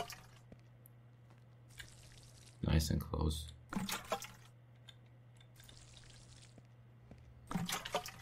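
Water collected in the PC farming game Green Project, heard as bursts of splashing and pouring liquid in short clusters, mid-distance and moderately loud, with a steady low hum and someone speaking briefly.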